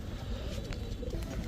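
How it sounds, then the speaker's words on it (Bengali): A pair of Pakistani flying pigeons coo softly at close range, steady low murmuring calls over a constant noisy background, with no talk. "এখন দেখাবো এক জোড়া পাকিস্তানি 35 কবুতর"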